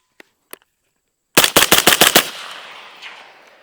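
An IWI Carmel rifle fed from a Daniel Defense magazine fires at an outdoor range. After a couple of faint clicks, a rapid string of about seven loud, close shots rings out and fades into a long echoing tail.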